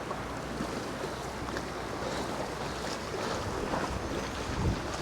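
Strong storm wind of 45 mph plus at Poole Harbour, a constant loud rushing roar buffeting the microphone, with gusts swelling and no voices.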